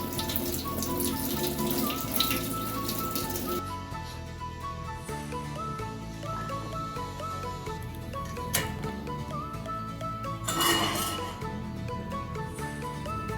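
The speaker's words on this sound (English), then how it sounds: "Now let's head over to our sink to get our kale washed." Tap water runs into a sink while kale leaves are washed, a steady hiss and splash with brief sharper bursts as the stream is disturbed, close and continuous.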